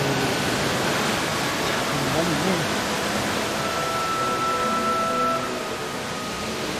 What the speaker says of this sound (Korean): 여행의 피로까지 싹 씻어줄 것 같은 물소리를 따라 걷다 보면